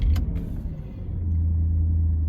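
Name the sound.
Porsche Panamera S V8 engine rumble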